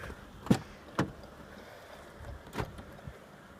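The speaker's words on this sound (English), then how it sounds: "Oh, I need to unlock the car." A few sharp mechanical clicks and clunks, spaced irregularly, as a 2014 Lexus ES350's door locks release, with quiet background between them.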